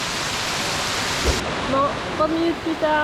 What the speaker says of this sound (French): il y a vraiment une grosse averse